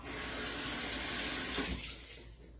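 A russet potato rinsed under a running kitchen tap, a steady close hiss of flowing water that fades and thins toward the end.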